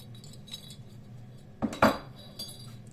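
A spoon stirs sweetener (stevia) into a bowl, giving a couple of quick clinks and scrapes against the side near the middle, fairly close, with quiet room tone before and after.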